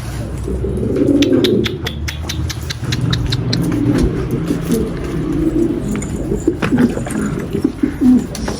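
Pigeons coo in low, throaty bursts close by, joined by occasional wing flaps and faint chirps, with a car engine rumbling steadily in the background throughout.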